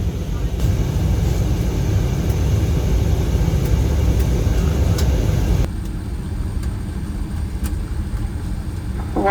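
Steady, loud broadband rumble fills an economy-class airliner cabin as it lands in Las Vegas late at night, then drops to a quieter hum partway through.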